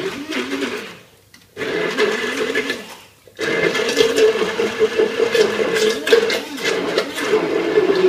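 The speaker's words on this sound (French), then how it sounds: "je vais sucrer légèrement ma mangue et je vais la mixer" A kitchen blender purées lightly sugared mango into a coulis for a Valentine's dessert, loud whirring bursts broken by two short pauses, then running steadily to the end, close up with no talk.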